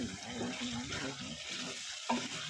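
Radishes stirred in hot oil in a pan for mooli palak, a steady close sizzle and frying hiss with scraping stir strokes throughout and a brief louder clank near the end.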